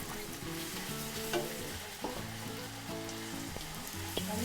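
Onions frying in a pan until browned, a steady close sizzle running throughout with occasional stirring clatter and small pops.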